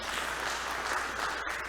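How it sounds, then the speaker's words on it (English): A crowd at a quarterly church conference gives a brief, steady round of applause for the finance members of the leadership team, a dense even patter of clapping. "Can you give them a round of applause?"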